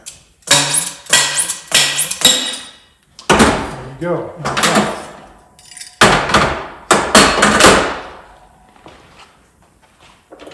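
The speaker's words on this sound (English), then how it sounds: "But you basically use this like a slide hammer." Series of sharp metallic slide-hammer knocks in quick bursts, knocking out a fork seal on a KTM WP Xplor motorcycle fork, close and loud, with ringing between strikes and a brief spoken remark.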